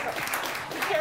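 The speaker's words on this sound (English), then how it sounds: "Keep clapping till he gets here." Audience applause at a comedy venue as an upcoming Limerick comedian walks up to the stage, steady clapping at moderate volume with some voices mixed in, lasting about a second.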